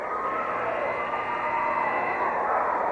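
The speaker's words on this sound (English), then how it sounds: "You can hear maybe in the background how fired up his Abingdon crowd is" Abingdon home crowd at a 1986-87 girls' JV high school basketball game against Gate City, a steady, dense wall of cheering and shouting filling a gym, loud and continuous throughout.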